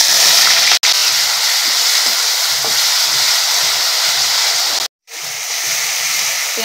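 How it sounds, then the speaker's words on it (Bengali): Grated onion frying in hot oil after a dried red chilli tempering for a rajma masala curry, a steady close broadband sizzle with two brief dropouts. "আমি প্রথমে পেঁয়াজটা ভেজে নেব।"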